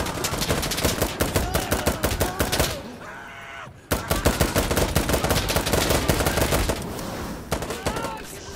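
Sustained automatic gunfire in the tactical shooter Insurgency Sandstorm during a limited Task Force 666 event, loud, close and nearly continuous, broken by a short lull and a sudden resumption of rapid shots.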